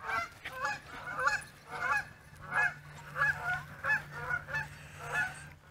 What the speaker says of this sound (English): we got some geese yelling at us